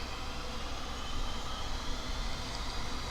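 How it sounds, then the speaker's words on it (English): An F-86 Sabre fighter jet taxis onto a runway, its engine a steady, loud broadband roar and whine heard close up, continuous with no breaks. "I'm going to taxi out on the runway and line up for takeoff."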